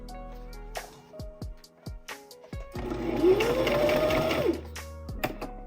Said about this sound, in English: I'm going to be using a straight stitch.